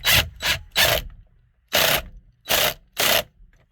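A ratchet tightens a 19 mm bolt inside a car's interior, six short close clicking bursts in an uneven rhythm with brief pauses between strokes.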